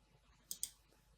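Two quick, faint clicks of a computer mouse in close succession, crisp and near against a quiet background.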